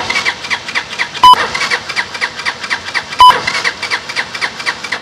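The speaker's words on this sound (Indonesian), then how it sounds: "inilah dia ngauman bunyi sinora. Minta maaf, nak start susah sikit." A custom Demak D7 mini chopper's small engine being cranked with two sharp starter bursts over a rough, sputtering mechanical chatter, close and fairly loud, hard to start.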